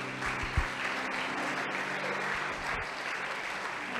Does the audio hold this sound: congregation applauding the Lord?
yes